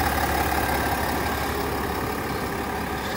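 A 2022 Chevrolet Suburban Premier with the 3.0-litre Duramax diesel engine idles nearby, giving a constant even rumble with a faint high whine and no voices.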